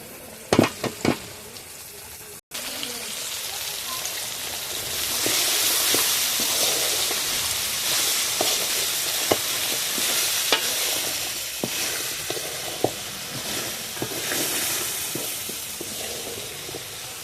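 Okra (bhendi) fries in hot oil in a pan while cooking mustard hilsa, giving a steady broad sizzle that swells after the okra goes in, with scattered stirring clicks and scrapes near the pan.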